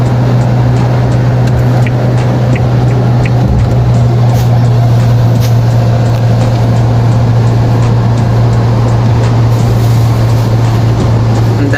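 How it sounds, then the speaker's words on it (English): A car drives through rain, giving a steady, loud interior road rumble with a constant low engine hum and broad wash of tyre and rain noise throughout, no talk. "Such a mesmerizing drive in the rains."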